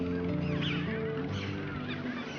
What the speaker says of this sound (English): because you can hear gulls. There's fulmars down here.